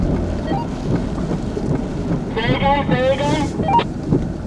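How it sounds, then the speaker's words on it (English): Hurricane Charley's outer storm bands come ashore at Punta Gorda, Florida, in 2004, with rumbling wind buffeting the microphone and rain, while a voice is heard briefly. "the storm was starting to come on shore"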